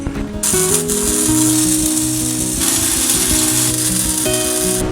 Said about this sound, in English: I'm going to tack it up to make sure it all fits before I weld it straight